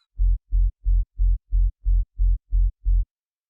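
Nine deep, booming hardcore kick sub-bass tails in a steady even rhythm, each held briefly then cut off by volume automation, with a smooth low tail and no other sound.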